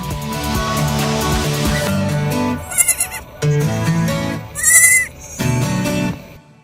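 Goats at a goat yoga class bleat in several loud, wavering calls, separated by short gaps and quieter stretches of background sound.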